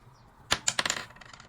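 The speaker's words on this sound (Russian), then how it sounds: "давайте кинем первый кубик" A die tossed onto a hard surface during a drawing challenge, giving a quick clatter of several sharp tumbling clicks that settle within half a second, close and fairly faint.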